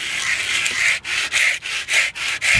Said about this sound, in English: An easier method is just scrape this on the sidewalk to get it level.